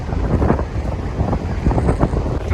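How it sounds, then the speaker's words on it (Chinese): Strong, cold wind on an empty Pacific beach buffets the microphone in a constant low roar, with the surf faintly mixed beneath the gusts. "因为风太大了"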